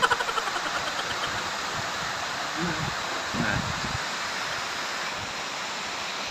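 Heavy, unceasing rain pours down as a steady broadband hiss that holds at an even level throughout, with a couple of brief muffled thumps partway through.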